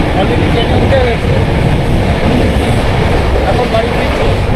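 Inside a moving Ispat Express passenger train heading home from Jhargram, a loud, steady rumble and rattle of the carriage fills the whole stretch without letting up, with a muffled murmur of voices underneath.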